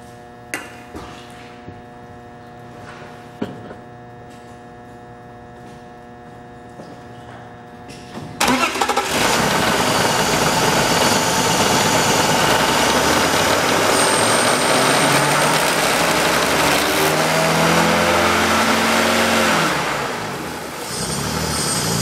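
A 2003 BMW 325i with black leather interior cranks and fires up, then settles into a loud, steady idle heard close by, after a few quiet seconds of faint background noise.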